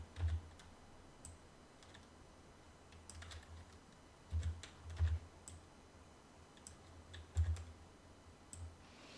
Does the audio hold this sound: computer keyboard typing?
yes